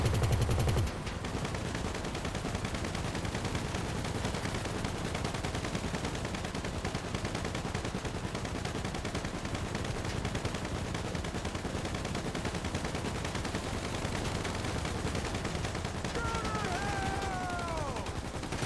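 Sustained dense gunfire in GTA V Online during a stealth helicopter heist prep, a loud continuous barrage running almost without pause, with a brief whistling sweep near the end.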